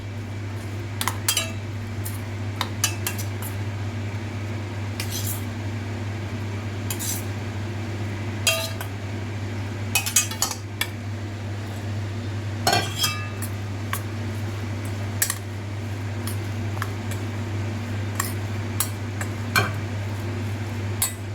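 A spoon stirs chillies in a dish for raita-style marinated chillies, sharp metallic clinks and taps scattered irregularly over a steady low hum, close and alone with no talking.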